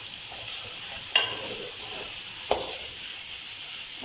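Chicken masala with chaat masala and black pepper fries in a pan, giving a continuous close sizzle. Two sharp stirring knocks break the hiss, with no talking.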